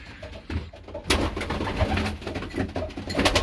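Young pigeons in a loft coo in low, throaty repeated calls, close by, with rustling and shuffling movement around them.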